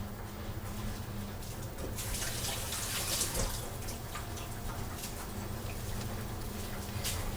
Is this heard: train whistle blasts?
no